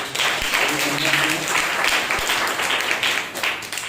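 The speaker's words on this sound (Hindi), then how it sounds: "नयोमी स्तुति को जोरदार एक ताली बजाइए" Congregation at a Sunday morning church service applauding, a steady wash of many hands clapping at moderate distance, with a voice speaking over it.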